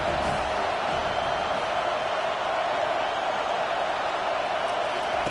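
Steady roar of a stadium crowd at a football game, a dense continuous wash of many voices heard from within the stands, loud and unbroken throughout.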